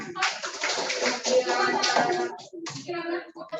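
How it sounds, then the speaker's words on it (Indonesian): A classroom of children claps for a group, a busy scatter of hands with kids' voices mixed in, fading briefly before a little more chatter. "Tepuk tangan untuk kelompok 4."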